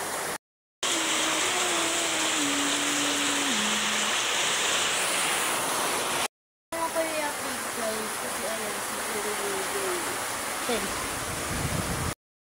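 Heavy rain from Typhoon Carina pours down in a dense, steady roar throughout, with a brief break in the sound. A voice talks over the downpour.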